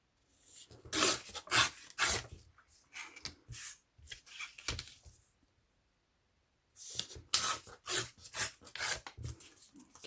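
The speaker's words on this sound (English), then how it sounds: "I'm just going to use the ruler to tear the strips" Vintage book pages being torn into strips against a 3 cm ruler: repeated short ripping bursts in two runs separated by a few seconds of quiet, close and fairly crisp, with no talking.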